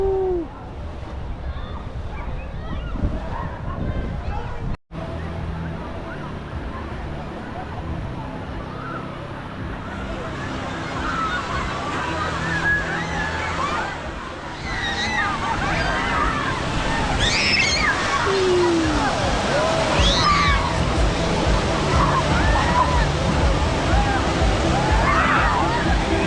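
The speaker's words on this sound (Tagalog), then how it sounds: "So ito na guys, umpisa na yung wave oh." An outdoor wave pool at a resort starts its waves, and water sloshes and surges with a broad, steady rush that grows louder partway through, while people talk and shout in the background.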